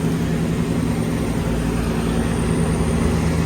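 Wooden tugboat engine towing barges downstream on a river in flood season, a steady loud low droning hum with a constant tonal note, close and continuous with no talk.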